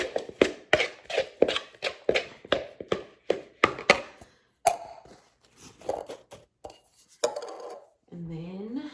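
A utensil clatters rhythmically against a bowl while salmon patty mixture is stirred, a fast run of loud sharp knocks that slows and turns into scattered taps and scraping, with a brief voice near the end.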